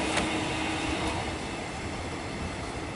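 Siemens train passing on a Melbourne railway line, a steady broadband rumble and rush of wheels held throughout at close range, with faint rail clicks.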